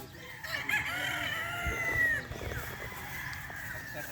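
A Sweater Gilmore gamecock at a game farm, with a rooster crowing in a drawn-out, rising call over steady farm background noise, moderately near.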